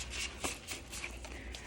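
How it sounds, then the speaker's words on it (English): Awkward shuffling of an oversized deck of cards, a run of soft papery riffles and slaps repeating close up, fairly quiet and steady throughout. "This is a big deck. It's got a lot of cards, so it's kind of like an awkward shuffle."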